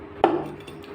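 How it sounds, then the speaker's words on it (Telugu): A knife cuts boneless chicken into small pieces for chicken pickle, giving one sharp, close chop followed by faint board noise. "ఇప్పుడు ముక్కలు కట్ చేద్దాం."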